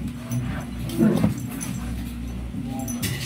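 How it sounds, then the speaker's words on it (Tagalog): A dog whimpers and yips softly over steady background noise, with a brief louder whine near the middle; no clear full bark stands out. "Ang dalawang aso."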